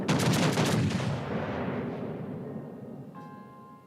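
Naval guns of a warship in World of Warships: Legends firing together in one heavy, close boom that rolls off into a long fading rumble, with a faint tone rising near the end.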